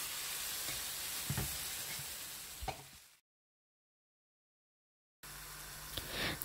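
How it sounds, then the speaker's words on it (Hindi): Gravy simmering on a low flame in a pan, giving a soft, steady sizzle with a few light stirring knocks and a two-second gap of silence midway. "ग्रेवी को आपको धीमी आंच पर लगातार चलाते रहना है"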